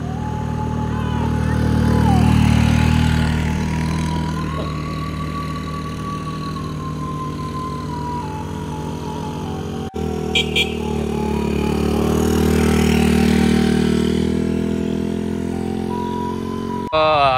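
A motorcycle engine climbs a steep uphill road toward Alahan Panjang, holding a steady, loud drone that swells and eases as the throttle changes, with a brief clunk partway through.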